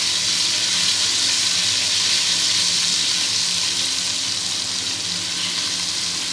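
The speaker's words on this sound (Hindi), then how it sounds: "ये 2 टेबल स्पून अदरक लहसुन का पेस्ट है, ये इसके अंदर जाएगा।" Ginger garlic paste fries in a pan of browned onions for chana kofta pulao, a dense, even, close sizzle holding steady throughout, alone with no talk.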